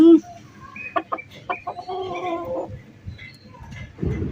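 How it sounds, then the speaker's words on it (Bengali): Large desi roosters crowing and clucking at close range: a few choppy, rising calls, then a longer, wavering crow, with rustling noise around them. "এই মোরগগুলো মাসিরা পুষতো, কিন্তু ওদের ডাকাডাকির চোটে ওরা বিক্রি করে দেবে।"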